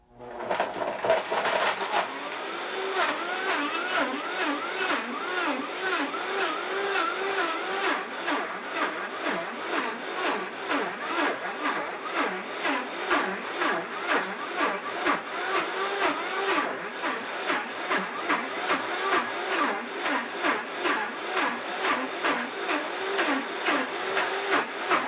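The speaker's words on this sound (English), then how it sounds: "We're blending on the highest speed." A Vitamix blender runs at its highest speed, crushing frozen pumpkin ice cubes while a tamper pushes them down. It gives a loud, steady, grinding whir that lasts the whole stretch with no pauses.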